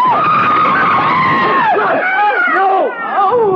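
Car tires skid and squeal in long, wavering screeches as the brake is applied in a 1974 TV drama scene, loud and close, with a woman's scream mixed in.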